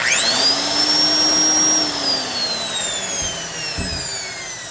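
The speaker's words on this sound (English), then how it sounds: "we'll give this one more run just because this is a beautiful sander" A Black & Decker 92E heavy-duty industrial 7-inch sander runs close and loud at a steady high whine, then winds down as it is switched off, its pitch falling away toward the end.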